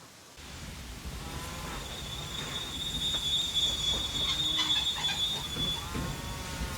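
A train runs in the Railway Empire 2 video game, its continuous rumble rolling steadily while high wheel squeals rise and fade over the running noise.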